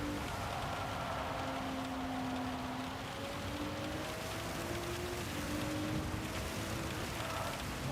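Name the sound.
rain at Spa in Gran Turismo 7 video game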